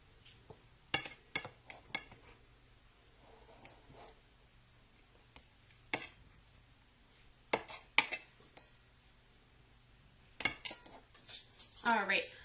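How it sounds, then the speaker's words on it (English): Brie cheese is sliced with a knife, producing sparse sharp clicks and taps of the blade against a board or plate, separated by quiet gaps, with a soft clatter near the end. "I'm going to slice these up more."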